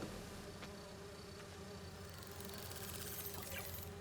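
Buzzing of virtual bee wolves, wasp-like insects in Spider-Man 2, hums steadily and faintly throughout, a continuous low insect drone with no voices over it.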